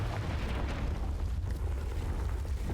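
A Confringo explosion spell goes off in Hogwarts Legacy, a sustained loud rumbling blast with a heavy low roar that fills the moment steadily rather than as one sharp crack.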